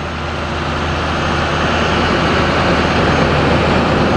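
A 2010 Chevrolet Startrans 14-passenger ADA shuttle bus runs its Duramax 6.6-liter turbo diesel with a loud, dense, steady roar close by, growing slightly fuller over a few seconds, with no talking.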